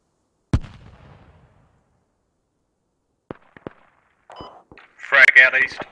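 Frag grenade explosion in the military shooter Squad, one sharp, loud blast with a short rumbling tail, followed by silence, a few distant clicks and shots, then voices talking over radio.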